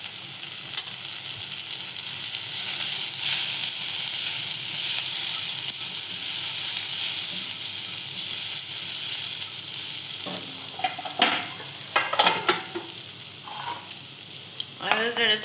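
Turmeric and asafoetida fry in hot oil in a pan for a Marathi tondli-val vegetable dish, a loud, continuous hiss of sizzling near the mic, joined toward the end by clattering spoon scrapes and stirring knocks.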